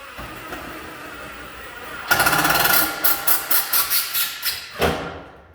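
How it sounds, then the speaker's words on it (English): A power drill whines as it bites into a thick tin flange, rising to a harsh grinding, then pulses in about eight rhythmic bursts before stopping. "This screw flange is a little thicker tin. This stuff is so easy to drill into."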